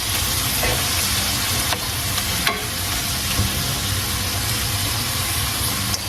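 Garlic sizzling in a hot skillet while cooking Spanish rice: a continuous, loud, close frying hiss with faint crackles and occasional stirring clinks, no talking.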